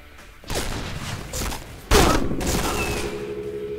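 A few sharp gunshots in the online shooter Point Blank, three distinct bangs spaced unevenly over a few seconds, with ringing tails and game ambience between them.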